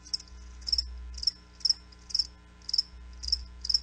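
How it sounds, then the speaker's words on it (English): Crickets chirp in a steady rhythm of short, bright bursts, about two pulses every second, heard clearly and alone with no voices. "That's right, crickets."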